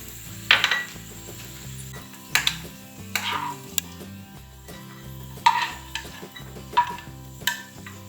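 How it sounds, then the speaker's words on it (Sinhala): Dried cashews frying in hot oil in a pan, stirred with a utensil that knocks and scrapes against the metal in irregular clinks over a faint, low sizzle, with no one speaking. "තෙල් ටික රත් වෙනකොට වියලි කජු ටික වන්නම් පාටට පොඩ්ඩක් බැද ගන්න ඕනේ"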